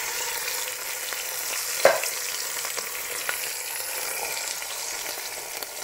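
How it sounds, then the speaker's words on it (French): Tomato coulis poured into garlic frying in olive oil in a pan, giving a steady soft sizzle with one sharp splashy hit near the middle and light stirring scrapes, fairly quiet and close, no talking. "Et là, on vient tout de suite ajouter le coulis de tomates et 2 boîtes."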